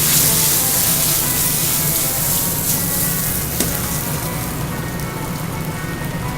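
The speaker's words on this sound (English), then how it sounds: "So this is just some carrot, zucchini, and summer squash. We want them to hit the hot oil and for them to get a little crisp up." Carrot, zucchini and summer squash sizzling in hot oil in a restaurant kitchen, a loud, dense, steady crackle and hiss throughout, close up with a faint clatter of stirring and no talk.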